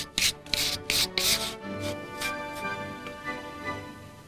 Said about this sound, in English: First, we're going to clean the hole out thoroughly.